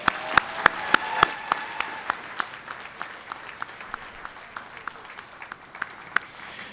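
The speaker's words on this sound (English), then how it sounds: "why don't you give a round of applause to the people who helped you get through this?" Graduation audience applauds at a University of Guelph-Humber ceremony, a steady wash of clapping with sharp, distinct individual claps standing out nearby, gradually thinning.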